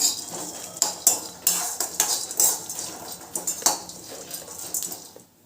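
A utensil stirs cumin seeds roasting in a pan for chutney, giving repeated sharp metallic scrapes and clinks in an uneven rhythm, close and loud.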